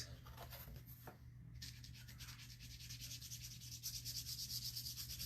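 Soft, steady rubbing and dabbing of a foam dauber loaded with walnut distressing ink on a painted patriotic craft piece, with close, continuous scuffing and no talk.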